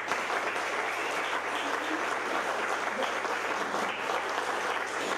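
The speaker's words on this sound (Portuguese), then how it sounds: "Eu gostaria de pedir um aplauso para os nossos artistas" An audience applauds artists at a show, a steady, even roar of many hands clapping that holds at a moderate, somewhat distant level throughout without a break.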